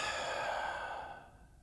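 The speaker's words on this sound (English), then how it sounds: "Take that deep breath." A single slow, deep breath drawn in and let out during a guided meditation, soft and close, airy and unhurried, fading toward the end with no talk over it.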